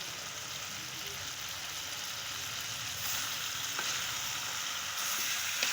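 Whole fish frying in a pan with onion and tomato for a Bengali-style fish curry, a steady close sizzle and crackle that thickens slightly partway through, with no talking.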